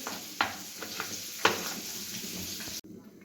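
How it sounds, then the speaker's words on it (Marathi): Tomatoes go into a pan already sizzling with green chilli and ginger for a mixed vegetable dish, a soft steady fry with a few clinks of a spoon, close by, cutting off abruptly at the end. "एक हिरवी मिरची आलं घातलं आहे त्यामध्येच टोमॅटो घालून घेणार आहे"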